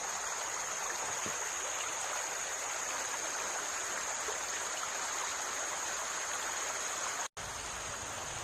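A river flows through the steep-walled Ngarai Sianok canyon valley near Bukittinggi, giving off a steady, full rushing wash with no break, heard close and alone, with no voices.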